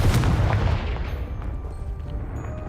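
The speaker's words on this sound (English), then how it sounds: "Only one way to find out. Confringo!" A Confringo fire spell explodes in Hogwarts Legacy: one loud, deep booming blast at the start that rumbles and fades into a low tail, with no talk.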